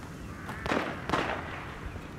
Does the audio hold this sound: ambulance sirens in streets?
no